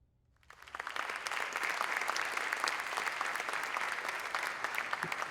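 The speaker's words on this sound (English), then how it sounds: "Why are you clapping?" An audience at a memorial tribute breaks into applause after a short silence, a steady, moderately distant wash of clapping that continues evenly to the end.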